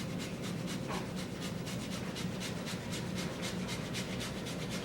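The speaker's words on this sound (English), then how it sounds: "Once I'm done grating my cheese, then I'll mix it around." Block of cheese grated for a chicken curry casserole, a continuous close rasping scrape with quick repeated strokes throughout, steady and moderately quiet with no talking.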